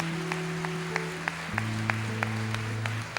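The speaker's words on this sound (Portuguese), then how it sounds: "Uma salva de palmas para o Senhor" A church congregation claps for the Lord during an evangelical service, steady rhythmic claps landing about three per second over sustained keyboard chords, with no voices.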